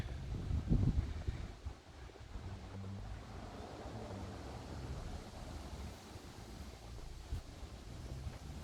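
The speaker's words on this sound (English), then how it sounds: "it's a little windy" Continuous wind rushing and buffeting against the microphone, with a low rumbling gust near the start and steady blustery noise throughout.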